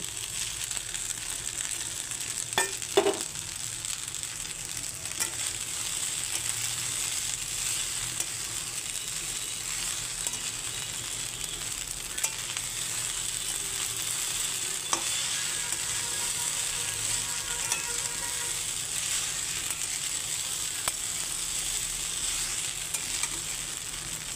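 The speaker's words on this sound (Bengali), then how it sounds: "আর এখন ডিমের ঝুড়োটাও দিয়ে দিচ্ছি।" Pasta and scrambled egg are stirred in a hot frying pan, a constant loud sizzle broken by occasional scrapes and clicks of the spatula against the pan.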